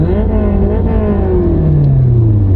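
A Honda S2000 sports car engine revs loudly and steadily, its pitch sliding down as the throttle eases, with a deep exhaust rumble throughout.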